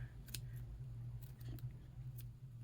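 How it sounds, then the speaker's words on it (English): Scissors snip through crochet yarn in a few quick, sharp cuts against a steady low hum, close and fairly faint. "oh, I need better scissors"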